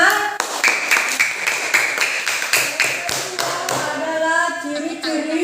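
A small group, such as a classroom of students, claps hands together in a fairly rhythmic, unison beat of sharp taps before it dissolves into voices talking over the end.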